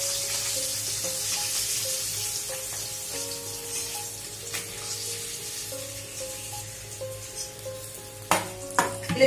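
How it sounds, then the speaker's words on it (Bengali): Hilsa fish sizzle in hot oil in a pan with a steady crackling hiss, followed by a few sharp clatters near the end. "মাছগুলোকে সব ভেজে তুলে নিলাম"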